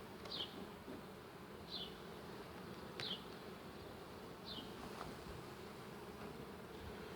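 Honey bees in an open hive produce a faint, continuous buzzing drone, with small high chirps repeating roughly every second and a half over the hum.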